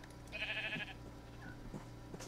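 Sheep in a video game give a single nasal bleat at moderate volume, then a few soft clicks and a sharp tap near the end, with no talking.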